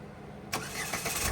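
A motorbike engine catches and starts halfway through after a quiet pause, then settles into a steady close running sound with slight fluctuations.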